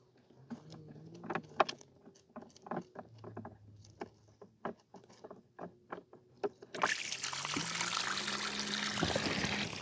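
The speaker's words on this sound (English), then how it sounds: "now I'm just going to pull the drain plug again" Water trickles and splashes in small bursts, then a steady rush of water draining from a laundry bucket through a pulled drain plug takes over for the final few seconds, close by.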